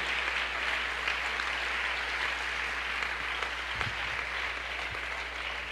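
A church congregation breaks into sustained applause, a thick, even wash of many hands clapping that holds steady for several seconds.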